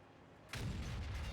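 After a brief near-silence, an E100 tank cannon in World of Tanks fires with a sudden loud blast that rolls on as a sustained, heavy rumble.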